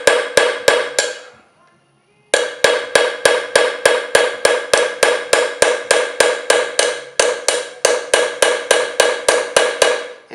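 Steady hammer blows on a steel chasing tool against metal, struck in a fast even rhythm of sharp ringing taps, with a short pause before the tapping resumes, close and loud.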